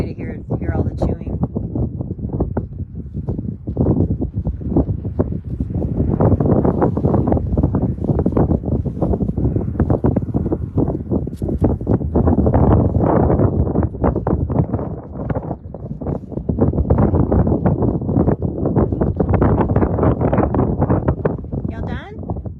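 Strong wind buffets the microphone outdoors in cold weather, gusting in loud, rough bursts for the whole stretch, with voices talking intermittently underneath.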